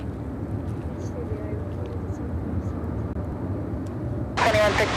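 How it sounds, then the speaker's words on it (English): A Qatar Cargo Boeing 777 freighter takes off at Chicago O'Hare, a steady low broadband engine roar held throughout, with a burst of voice near the end. "This is Qatar Cargo 8112 taking off to Milan on the 777 freighter."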